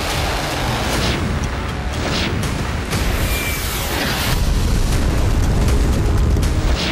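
Rocket strikes from a Hezbollah barrage hitting Avivim in Israel's western Galilee, heard as a continuous loud roar with deep rumbling booms and crackling, no clear separate blasts.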